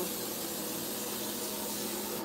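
Coconut oil cooking spray hisses steadily from a can, a close, continuous broadband spray held for a couple of seconds in a home kitchen before roasting Brussels sprouts.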